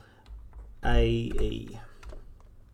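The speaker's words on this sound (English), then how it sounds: "we're going to type in some text" Text is typed on a computer keyboard in a string of quick, close clicks and taps, partly under a person talking.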